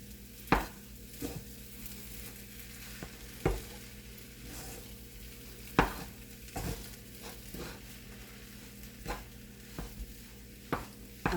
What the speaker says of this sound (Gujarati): એટલે આપણે હલાવતા રહેવાનું છે.